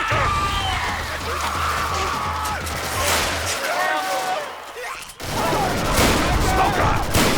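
Rapid, dense gunfire from several survivors in the Left 4 Dead 2 Swamp Fever campaign crackles almost nonstop. Voices shout over the shooting.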